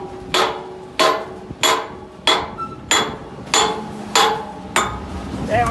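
Seven heavy, evenly spaced hammer blows drive a wrist pin into a baler, each strike ringing out sharply with a short metallic decay, loud and close with no talking.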